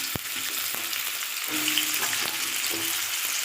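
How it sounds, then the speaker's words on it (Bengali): Vegetables frying in hot hilsa fish oil in a wok, a loud steady close sizzle with a few light clinks and scrapes of a spatula. "ভেজে নেবো এটাকে।"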